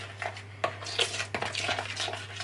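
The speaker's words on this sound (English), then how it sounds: "Then just mix that up." Pizza ingredients being stirred in a bowl at home, a run of soft scraping and clinking utensil strokes against the bowl, close and steady with no talking.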